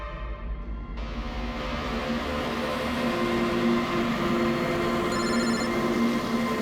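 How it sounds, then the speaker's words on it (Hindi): A landline telephone in a Hindi crime drama rings on and on unanswered, a steady repeating electronic tone over a low droning background, with no one picking up. "कब से लैंडलाइन पे फोन कर रहा हूँ सर, फोन ही नहीं उठा रहे"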